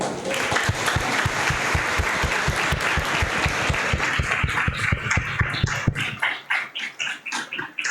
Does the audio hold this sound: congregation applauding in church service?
yes